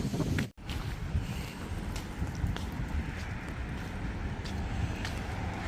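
Strong wind gusts outdoors and buffets the microphone, making a continuous broad roar with brief dips and gusty swells and no clear talk.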